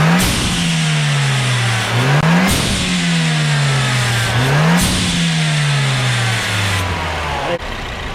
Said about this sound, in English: So Nick is gonna help me rev the car.